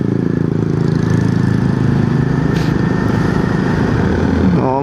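A Kawasaki Z400 motorcycle engine runs close and loud, its throttle held at a steady mid rev with a rough, pulsing exhaust drone that lifts slightly toward the end.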